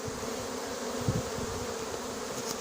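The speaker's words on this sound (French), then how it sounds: "Il y a beaucoup d'abeilles qui volent donc j'attends que ça se regroupe." A swarm of honeybees buzzes continuously in the air during a swarm capture, a soft, dense droning hum with occasional louder passes close by.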